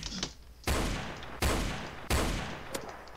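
Three loud, evenly spaced gunshots ring out in a Roblox game, each with a sharp crack and a short decaying tail, separated by quieter gaps with faint background clicks.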